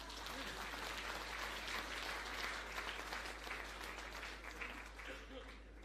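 An audience claps at a Ministry of Labour and Social Security awards ceremony with steady, even applause that fills the room. Faint voices mix in and a constant low electrical hum runs underneath.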